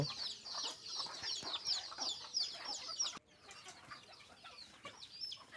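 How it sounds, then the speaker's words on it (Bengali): Chickens cluck and chatter in a busy flock that is circling for its afternoon feed, the calls overlapping and sounding close and fairly loud before they quiet somewhat, with wings flapping now and then. "মুরগিগুলো খাওয়ার জন্য ব্যস্ত হয়ে গেছে আমার চারপাশে এগুলো ঘুর ঘুর করতেছে"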